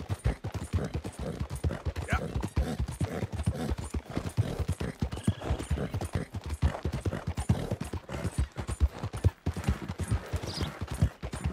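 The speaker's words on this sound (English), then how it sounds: "Working this horse." Horse hooves clip-clop steadily and continuously in Red Dead Redemption 2, a close, rhythmic gait of frequent sharp strikes carrying on throughout without pause.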